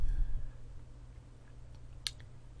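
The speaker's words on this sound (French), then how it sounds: "on clique sur la droite et on clique sur créer" A single crisp computer mouse click lands near the end against a quiet, humming background.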